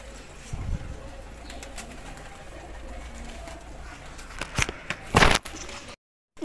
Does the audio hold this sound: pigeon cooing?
yes